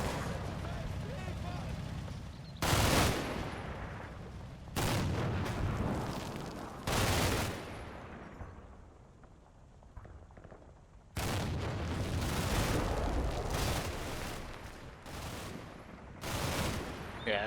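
Gunfire in the Combat Mission Red Thunder war game, likely including a machine gun, comes as several loud, sustained bursts of several seconds each, separated by quieter stretches of distant rumble.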